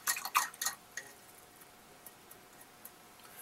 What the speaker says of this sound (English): I'll rinse off my brush.